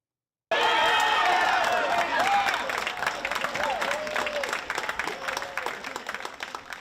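Big crowd of students, staff and alumni at an IU Southeast campus watch party for a Hoosiers game, cheering and applauding loudly in a sustained roar with shouts and whoops rising above it.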